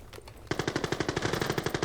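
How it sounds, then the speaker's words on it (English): Rapid automatic gunfire in the video game Armory, a quick burst of about a dozen evenly spaced shots that starts abruptly after a brief quiet moment. "Oh my gosh, we hear gunshots now."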